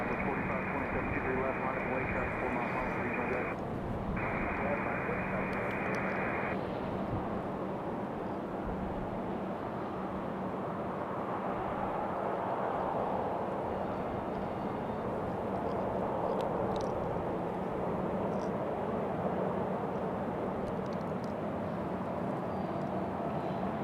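A Southwest airliner departs Raleigh-Durham airport bound for Phoenix, its engines a broad, sustained roar heard from a distance with steady rumble and wind, while a voice talks over it early on.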